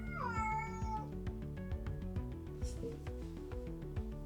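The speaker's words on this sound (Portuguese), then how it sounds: "Acho que um dos meus gatos, neste caso a minha gata, está naquela altura do ano" A female cat in heat meows and yowls in long, drawn-out wavering cries, close and continuous, over a steady musical background.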